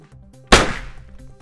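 A single sharp gunshot sound effect cracks out loud and broadband, then decays over about a second against a faint low background hum.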